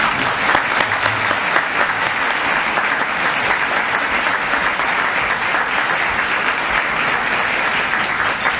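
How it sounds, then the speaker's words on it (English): An audience in Corpus Christi bursts into dense, sustained applause for a speaker being introduced, a steady wash of many hands clapping with no talk over it. "give her a big Corpus Christi round of applause for Lauri Burns"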